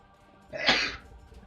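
A single sharp sneeze, close and loud, bursting out of near silence.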